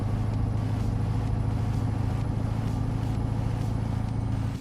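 Big Caterpillar diesel in a video game truck cruising Route 66 through the Ozarks, a steady low droning engine with a heavy chuff and faint roughness, constant and fairly close throughout.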